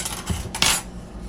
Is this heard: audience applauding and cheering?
no